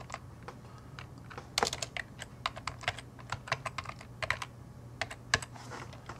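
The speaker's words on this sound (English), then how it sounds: "looks like I don't know how to type two of the same thing" Fingers typing on a computer keyboard in an irregular run of quick, light key clicks over a faint steady hum, close and fairly quiet, with no talk.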